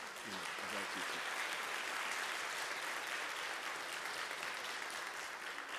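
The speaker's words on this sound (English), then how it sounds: "she would enjoy a well-deserved round of applause" Applause from a lecture audience, a dense, continuous wash of clapping at low volume that holds steady throughout, with a brief voice at the very start.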